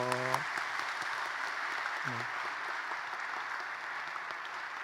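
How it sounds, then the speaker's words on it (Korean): Steady applause from a church congregation after an infant baptism fills the room, even and sustained, with a brief sung or spoken tone near the start. "큰 박수 보내주십시오."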